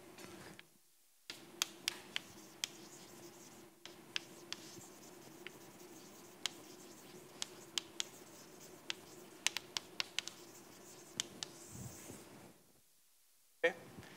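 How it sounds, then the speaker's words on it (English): Marker or chalk writing on a board during a lecture, heard as a run of sharp, sparse ticks and scratches with short quiet gaps, fairly close under a steady room hum. "So let me write this down here."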